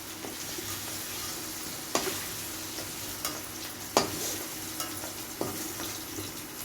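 Chillies fry in a pan with a soft, steady sizzle. A spatula scrapes and clacks against the pan every second or so, close but fairly quiet, and no one talks.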